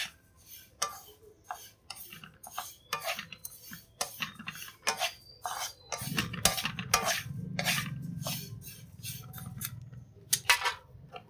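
Sesame seeds roasting in a hot pan are stirred with a utensil, making quiet, irregular scraping and clinking strokes against the metal, with a brief denser patch of rustling partway through.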